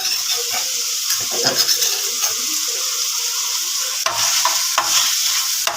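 Garlic paste for a stovetop pizza sauce frying in a pan, a bright steady sizzle with repeated spoon stirs and scrapes, close and without talk.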